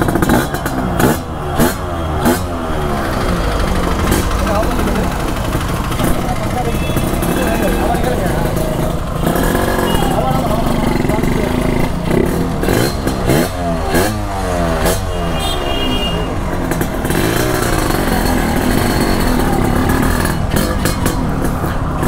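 A Yamaha RXZ two-stroke, six-speed motorcycle runs loudly nearby, its engine crackling and revving continuously for the whole stretch while people talk over it.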